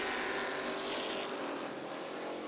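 Stock cars racing on a speedway, heard as a distant, continuous engine drone that holds at a steady moderate level throughout the short clip.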